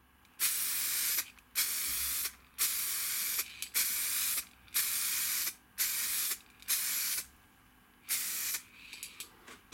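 Full Dip fluorescent paint goes on as a wet coat in repeated loud aerosol bursts, each hissing blast lasting about a second with short gaps between them, close up and free of talk.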